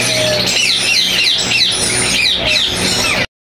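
Dense, overlapping chirps and squawks from many ringneck parrots, including a double-factor breeder pair, fill a busy Sunday bird market in Bahawalpur, loud and continuous throughout.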